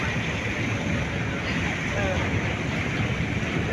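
Sea waves and gusting wind beside a fishing boat on open water, a steady broadband wash of surf and wind noise across the whole stretch, with no break or quieter moment.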